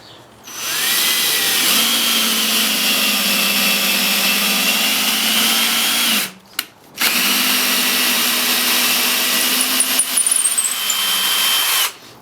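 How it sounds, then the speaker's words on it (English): A power drill set to low speed bores through wood with a steady, loud whine and grinding chatter. It runs for about five seconds, stops briefly, then resumes for a second long stretch before cutting off. "I usually put my drill on the number 1, which is a slower speed but more torque for this"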